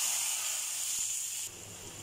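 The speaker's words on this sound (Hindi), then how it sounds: "अब हम इसमें तड़का ऐड करेंगे।" Hot tadka tempering sizzling as it is poured into mash daal: a steady, bright hiss close up, easing slightly partway through, with no talk.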